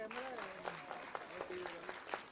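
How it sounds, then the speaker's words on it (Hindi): A crowd at a film trailer launch for the Govinda movie 'Aa Gaya Hero' claps in a moderate, uneven round while a voice talks over it. "एक बार मीडिया अपने लिए एक बार जोरदार तालियां हो जाएं"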